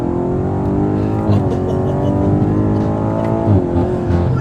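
BMW M5 accelerating hard from inside the cabin, engine note climbing steadily through the gears with brief dips at the shifts, loud and continuous throughout.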